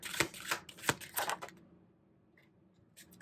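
Tarot cards shuffled over a desk, a few quick riffling bursts close by, then a quiet pause before a brief soft card flick at the end.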